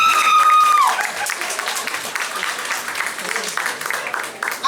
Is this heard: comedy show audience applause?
yes